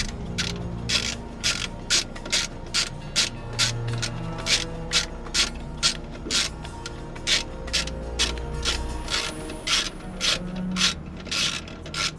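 Rapid ratchet wrench clicking in steady bursts loosens a loose hose clamp on a Volvo D13 truck engine, close and fairly loud with short pauses between runs of clicks.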